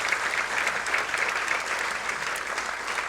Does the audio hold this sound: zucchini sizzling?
no